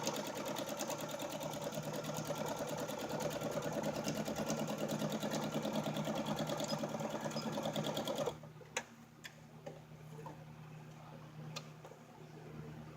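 Sewing machine stitching a seam for a bag or purse, a steady close mechanical whir running continuously for about eight seconds before stopping, leaving quiet room tone with a few small ticks.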